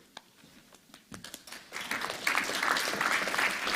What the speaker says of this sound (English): Once more, round of applause, please.